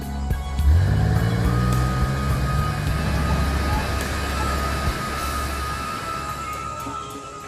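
A Soviet-built UAZ four-wheel-drive border guard vehicle drives on a rough mountain road, its engine a steady low rumble that rises briefly near the start, then settles into a continuous drone heard up close.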